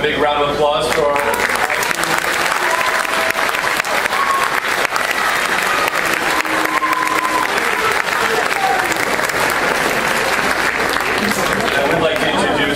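A high school audience gives sustained, loud applause after the winner of a senior oratorical contest is announced, a dense wash of many hands clapping continuously.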